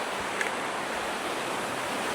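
A small, unsignposted waterfall in the Catlins, New Zealand, running with a fair amount of water, gives a steady, full broadband rush that stays even and close throughout, with no voices.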